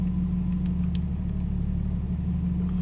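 A car engine idles steadily while its Adaptronic E1280s ECU is being tuned, a constant low rumble with a smooth even drone and no revving, close and alone.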